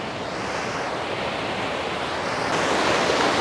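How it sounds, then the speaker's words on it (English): A fast-moving creek in Manti-La Sal National Forest near Brumely Arch, rushing over rocks as a dense, constant roar that fills the scene from close by, growing slightly louder toward the end with no voices. "So you come up to this fast moving creek"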